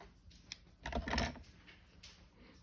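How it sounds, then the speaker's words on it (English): Scissors snip a strip off a card in a quiet room: a few faint clicks, then a brief louder crunching cut lasting about half a second, followed by a soft final snip. "I need those scissors to do it. And I'm just going to chomp off a strip."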